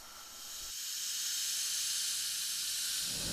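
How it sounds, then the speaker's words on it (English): A pressure cooker, used to boil sweetened condensed milk into caramel, releases steam as a steady loud hiss that swells in over the first second and then holds, close up with no talk. "we're going to let this take its time to release, and then we're going to open up the pressure cooker very carefully"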